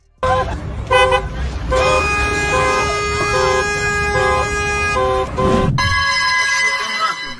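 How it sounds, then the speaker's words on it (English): Car horn blasting during a road rage confrontation, repeated honks in short bursts then a long sustained blare, loud and close, with someone shouting over it. "Ты чё, не видишь, что я тебе сигналю?"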